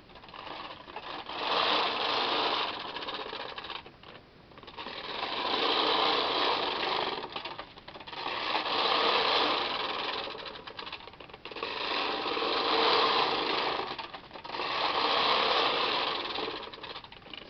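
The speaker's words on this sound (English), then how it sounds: "when you're using the yarn grabbers, it knits all the stitches and doesn't miss usually" A Bond knitting machine fitted with yarn grabbers knits rows of stitches, giving a steady close mechanical clatter in about five even passes, each followed by a brief pause.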